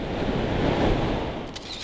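Ocean waves break and wash on a shore as a steady broadband rush, with wind buffeting the microphone and a brief camera shutter click near the end.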